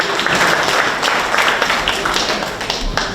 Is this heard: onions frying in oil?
no